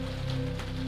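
Rain patters steadily on the large window of a 1920s Orient Express sleeper train, a soft, even wash under a low rumbling hum, heard for under a second.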